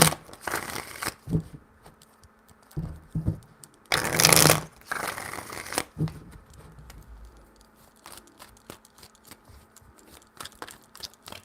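Tarot cards are shuffled in three bursts of riffling and sliding, papery crackles close up, separated by quieter handling and soft taps.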